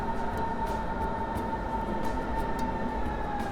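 Metro train in Germany arriving at a station, a steady rumbling roar of the wheels on the rails with a sustained high tonal whine and faint rattles, moderately distant and with no talk.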